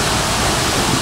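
Thommenkuthu waterfall roars close by, a dense, steady rush of falling water filling the whole clip.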